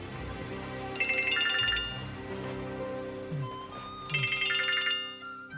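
A mobile phone ringtone plays a repeating electronic melody at moderate volume, in two clear bursts separated by quieter tones, with no talk over it.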